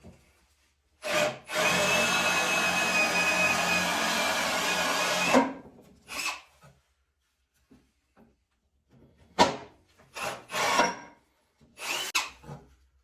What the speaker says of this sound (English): I'm using a 1 1/4 inch Forstner bit